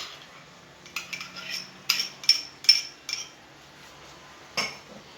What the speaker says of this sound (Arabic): نشوفوا نخلطوهم مليح هذو المكونات.